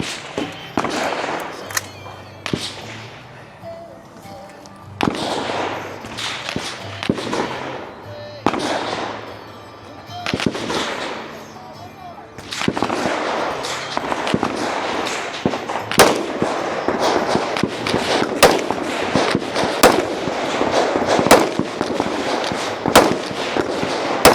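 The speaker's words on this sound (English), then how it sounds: "Just 12 shots with his rifle and 10 with his pistol remain before he can lock in a time" Rifle and pistol gunshots at an outdoor multigun shooting competition in New Hampshire, sharp loud cracks fired in quick strings with brief pauses, then a dense rapid run of shots, some echoing.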